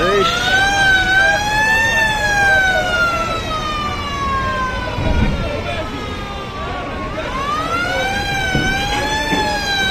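A passenger launch sounds a loud, sustained wailing horn before departing, its pitch sliding up and down steadily throughout, with background noise beneath it.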